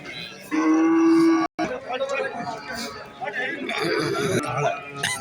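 Cattle moo loudly and steadily at the Valliyoor cow market in Tirunelveli, one long close call followed by more lowing over a busy background of market chatter and crowd noise.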